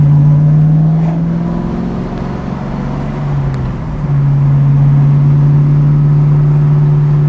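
A 1967 Pontiac Firebird on its first drive holds a steady, close engine drone. The engine dips briefly as it shifts partway through, then settles back to an even hum, with no talk.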